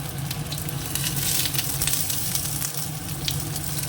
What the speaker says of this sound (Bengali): ফুলকপিটাও ভাজা হয়ে গেছে এবার দিয়ে দেবো পটলগুলো